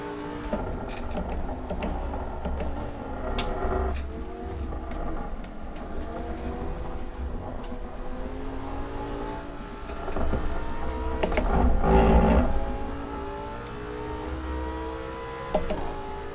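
A Lamborghini, Sesto Elemento or Huracan Performante, in Assetto Corsa, its engine droning steadily with rising and falling revs through corners and throttle, a harsher surge near the end, no talk over it.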